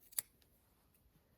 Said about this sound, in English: then we're going to cut the end.